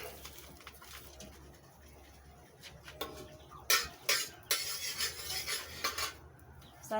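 Egg cooking in a pan in a home kitchen, with metal utensils clinking and scraping in sharp irregular bursts against low background hum, fairly faint overall.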